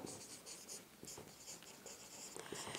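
Chalk or marker scratching on a board during a maths lesson: faint, quick strokes and taps in a steady, uneven rhythm, heard alone in a quiet room.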